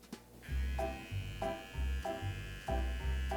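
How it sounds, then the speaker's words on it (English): An electric trimmer buzzes in steady bursts as it works along a corn cob, each pass a loud droning hum starting and stopping in a rough rhythm, close up with no talking. "What was that buzzing noise in there though?"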